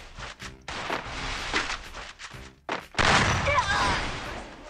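FAMAS rifle shots in a mobile shooter game, heard as several short bursts of gunfire between pauses, then a louder, denser stretch of shooting and impacts near the end.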